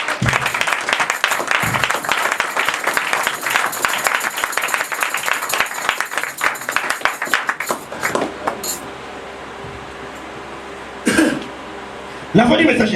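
A church congregation clapping and cheering in praise of the Lord, loud dense applause filling the first eight seconds, then fading to a quiet room with a brief final burst of clapping.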